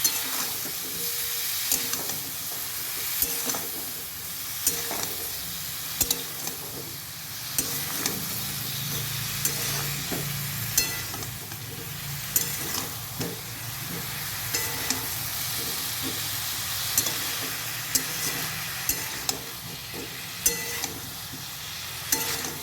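Spice paste is stir-fried with cauliflower and potato for a vegetarian curry, a steady close sizzle with repeated scraping stirs running throughout, no voices.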